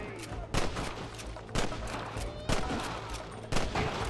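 Gunfire in the Western video game Red Dead Redemption rings out as sharp shots about once a second, over a dense background of battle noise at low volume.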